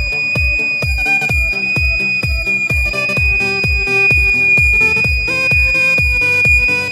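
A homemade metal detector built from household items sends out a harsh, unpleasant electronic tone with a steady high whine and rapid repeating pulses, loud and close.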